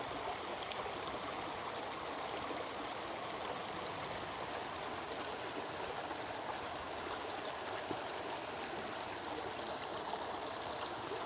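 Stream water flows steadily outdoors, a continuous broad rushing and trickling wash that stays even and fairly close throughout, with no voices.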